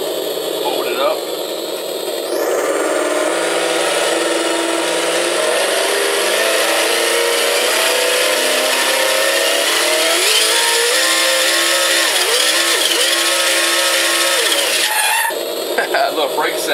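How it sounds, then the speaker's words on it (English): Monster truck V8 engine sound effect, likely played from a toy or RC sound module, revs in a buzzy, electronic-sounding tone that rises and dips repeatedly and then cuts off near the end, with a voice talking over it. "Got this monster truck V8 sound."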